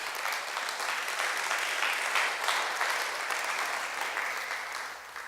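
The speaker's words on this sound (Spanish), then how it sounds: "denle un aplauso a Dios" A church congregation applauds steadily during a Spanish-language sermon, a dense wash of clapping that holds for about five seconds without talk on top.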